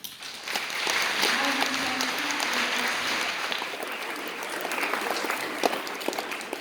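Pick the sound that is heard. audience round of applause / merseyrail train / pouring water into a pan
audience round of applause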